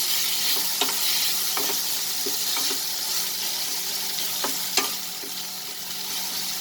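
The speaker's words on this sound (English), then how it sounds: "As the potatoes will take time to get cooked, saute it along with the onions." Potatoes sautéing with onions in a pan, a soft continuous sizzle with a handful of separate stirring scrapes spaced a second or so apart, close and moderately quiet.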